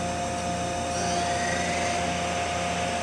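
The main spindle of a Mazak Integrex 300-IIIS CNC lathe runs with a steady, fairly quiet mechanical whir and hum, an even broadband whoosh with a faint rise partway through, heard alone without talk.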